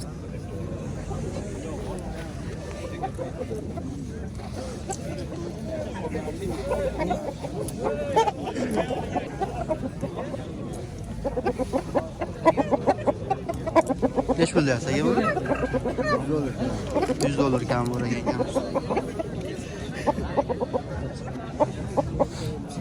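Roosters and hens at a poultry bazaar crow and cluck repeatedly, close by and fairly loud, beneath continuous conversation between men bargaining and a background babble of the market crowd.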